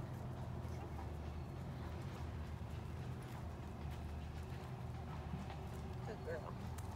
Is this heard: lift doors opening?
no